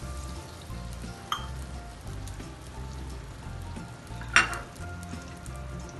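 Oil heating in a clay pot for a Kandar-style fish curry with kaffir lime leaves, a low, even crackling sizzle with a couple of brief clinks, close and fairly quiet.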